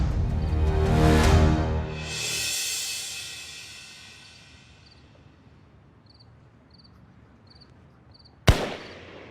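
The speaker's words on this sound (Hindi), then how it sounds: "ये तो पक्का फायर है।" A single sharp gunshot in a TV drama, heard late in the scene after a swelling whoosh and hiss, with crickets chirping faintly in a quiet night setting.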